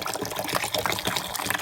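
Fizzy water pours steadily into a container for a kid's Halloween treat, a brief continuous splashing fill with bright fizzing texture, heard alone.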